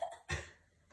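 A single short, sharp cough sounds close by near the start, with brief throat noise before it and quiet after.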